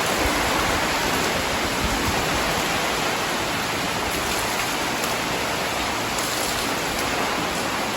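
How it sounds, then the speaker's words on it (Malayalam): Strong wind drives heavy rain in a continuous, loud, even roar of falling water that fills the scene without a break and without voices. "കുളിയൊക്കെ കഴിഞ്ഞ് ഇറങ്ങിയപ്പോൾ കേട്ടോ നല്ല കാറ്റും മഴയാട്ടോ"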